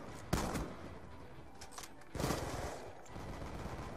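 Gunfire from the video game Call of Duty: Black Ops 2, with two sharp loud bursts of shots followed by a steady rattling stretch of fire beneath a constant background din, with no talking.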